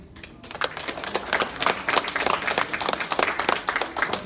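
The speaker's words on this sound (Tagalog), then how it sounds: "palakpak" A seminar audience claps steadily in applause, dense and fairly close, holding for several seconds with no voices over it.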